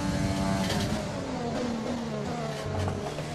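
Formula 1 race cars from the F1 2020 game during Russia qualifying, several engines droning and revving steadily at high pitch as cars share the track, loud and continuous with no talk.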